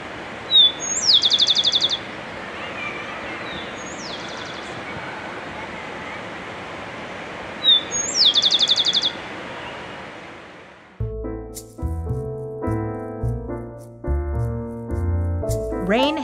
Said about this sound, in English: I'm trying to figure out some of these birds.